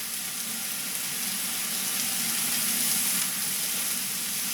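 Mushrooms frying in a pan for a chicken fricassée, a loud continuous hiss of sizzling with faint stirring underneath, steady from start to finish.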